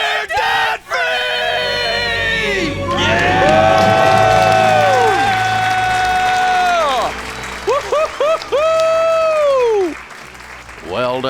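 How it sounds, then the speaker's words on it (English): A family on a radio show screams and cheers at being debt-free: loud shrieks and long high whoops from several voices, a short pause, then a second burst of yelling and cheering before it fades. "Let's hear a debt-free scream."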